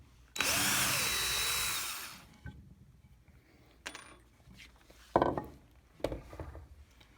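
Power drill boring a short screw hole through wood, one loud continuous whir lasting about two seconds, followed by scattered clicks and clatter of tools being handled.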